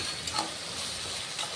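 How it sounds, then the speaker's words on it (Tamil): Ginger, garlic and a handful of mint leaves fry and sizzle in a pan for chicken biryani as they are stirred, a steady close hiss with faint scraping touches. "இப்போ இதையும் நல்லா கைவிடாமல் கிண்டி விடுங்க"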